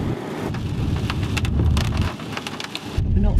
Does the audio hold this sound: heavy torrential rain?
yes